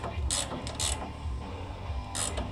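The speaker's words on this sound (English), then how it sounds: "We're going to take our 18 mil wrench and finish" An 18 mm ratchet wrench tightens a ball joint on a 1999–2007 GM truck front end, giving quick bursts of metallic ratcheting clicks, three short runs at close range over low background noise.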